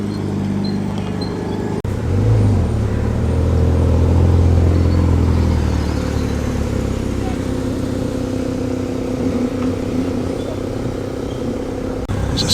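A classic Rolls-Royce Silver Shadow drives slowly into a country-house car show, its smooth low engine rumble swelling close by midway, with a commentator talking over it and crowd ambience around.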